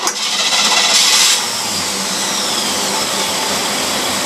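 An engine on a pre-rebuild test cranks briefly, then catches and settles into a loud, steady, rough-running idle with a broad mechanical roar, close up and with no talking.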